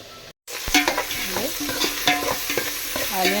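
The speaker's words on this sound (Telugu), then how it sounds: "గోల్డ్ కలర్ వచ్చేంత వరకు ఫ్రై చేసుకుందాం" Onions frying and being stirred in a pan until golden, with a steady sizzle punctuated by repeated scraping strokes of a spoon close up, no voices.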